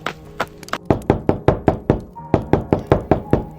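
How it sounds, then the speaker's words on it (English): Slow, deliberate knocking on a door in a horror story setting: about a dozen sharp, evenly spaced raps, close and loud, with no voices over them. "As I heard them knock at the"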